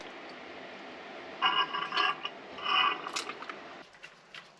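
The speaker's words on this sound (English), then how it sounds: "I'm just using a damper bleeding tool to move the damper in and out so it spits out some more of that old oil" A damper bleeding tool is pumped in and out of an old fork damper on a Triumph Daytona 955i, giving a few close, wet squelching and spitting bursts of oil over a steady background hiss.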